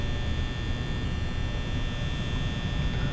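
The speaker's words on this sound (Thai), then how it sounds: "พัดลมแม่งก็หนวกหูอย่างเลยนะปิดได้ปะ" Inside the Five Nights at Freddy's game, a fan drones with a steady, even hum that stays constant and fairly close, with no voices over it.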